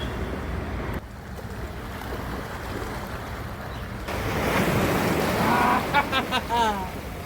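Ocean surf rolls in on Patenga sea beach in Chattogram, a broad steady wash of breaking waves with wind noise that swells louder midway, joined by a few brief voices near the end.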